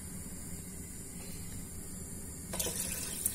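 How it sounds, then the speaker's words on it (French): Cold tap water running into a cooking pot while preparing a Moroccan meat dish, a steady hiss of flow that grows louder and splashier near the end. "C'est de l'eau froide, hein, du robinet."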